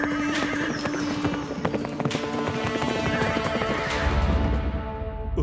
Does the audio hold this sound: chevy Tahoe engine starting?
no